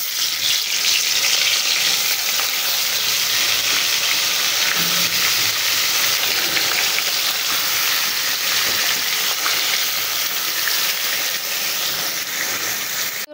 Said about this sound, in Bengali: মাছ মাখানো শেষ, এখন আমি এই তেলের মধ্যে দিয়ে দেব।